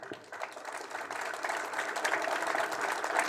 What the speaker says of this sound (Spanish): pedimos un fuerte aplauso para los compañeros que hoy están con nosotros